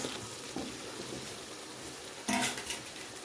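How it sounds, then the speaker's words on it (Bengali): Cut mud crab pieces going into a hot pan, a steady frying hiss that jumps into a louder, sharper sizzle near the end as the pieces hit the oil. "এখানে আমার কেটে রাখা কাঁকড়াগুলো দিয়ে দিচ্ছি।"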